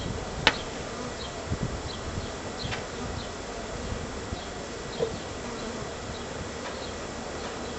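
Bees drone in a steady, dense buzz from many insects, close and constant throughout, with a few faint knocks and clicks over the swarm and no talking.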